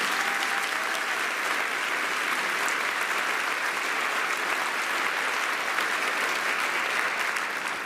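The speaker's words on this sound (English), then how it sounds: "Give her a nice round of applause." Audience applause at a community band concert, a constant, moderately distant rush of many people clapping that stays even and unbroken from start to finish, with no speech heard over it.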